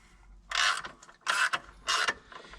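Bolts on an Eaton Advantage clutch pressure plate are tightened evenly with a ratchet, three distinct bursts of close clicking ratchet strokes separated by short pauses.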